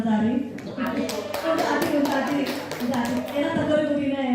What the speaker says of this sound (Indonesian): Tepuk tangan untuk Bapak Ansari